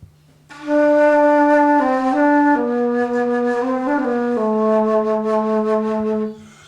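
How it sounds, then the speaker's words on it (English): A low, breathy alto flute melody of several sustained notes played close and alone, stepping between pitches with a faint steady hum beneath. "This is much larger, it's called an alto flute."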